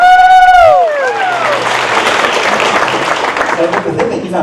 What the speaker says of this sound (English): Big round of applause for Kevin.